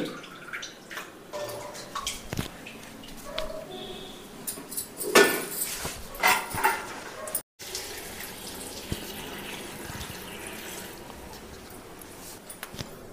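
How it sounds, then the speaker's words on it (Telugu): Broad beans get washed by hand in a basin of water, with splashing, trickling and sloshing close by, a few louder swishes midway and a short dropout, and no one talking. "చిక్కుడుగాయల్ని ఒక బేసిన్లో వేసుకొని ఒక 2 టైమ్స్ వాటర్లో వేసి వాష్ చేసిన తర్వాత"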